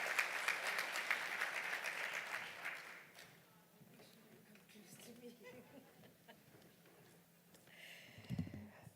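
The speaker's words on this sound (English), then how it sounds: "A round of applause, please" A conference audience at the Eastern Cape Investment Conference gives a brief round of applause that is fairly quiet and fades after about three seconds, leaving low room murmur and a few faint voices.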